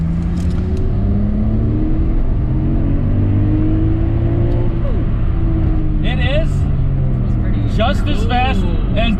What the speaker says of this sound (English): You can really hear the turbo spool